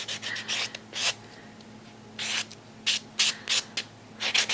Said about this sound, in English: And then I'm just buffing lightly.